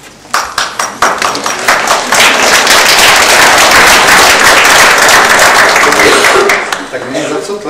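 An audience at a public discussion applauds, starting with a few scattered claps that swell into loud, dense clapping for several seconds before thinning out.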